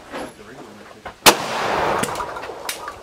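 A single sharp gunshot cracks at a night shooting competition, loud and close, followed by fainter distant shots and a noisy outdoor hiss of the range.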